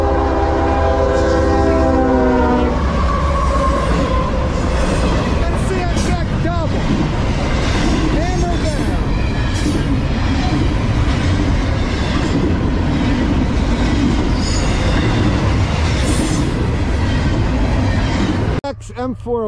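A CSX freight train rolls past close by with a loud, sustained horn blast over heavy rumbling and clatter from the wagons, while a person talks over the noise.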